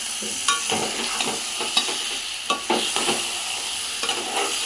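Stuffed eggplant curry with masala paste being stirred in a hot pan, a spoon scraping and knocking in irregular strokes over a steady sizzle, close and loud, without any talking.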